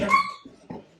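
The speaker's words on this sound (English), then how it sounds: "That was my dog." A dog gives a few short, whiny barks or yelps, close by, with brief pauses between them.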